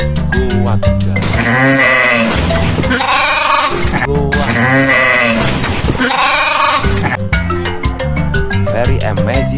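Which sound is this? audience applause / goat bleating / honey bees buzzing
goat bleating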